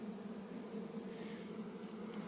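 A sizeable honeybee swarm, about 4 kg, that arrived on its own and was settled into a hive with 3-4 frames, hums in a steady, continuous low buzz throughout, faint and even, with no talking.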